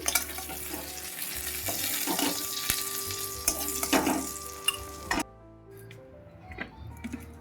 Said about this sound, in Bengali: চিংড়ি মাছগুলো ভাজা হচ্ছে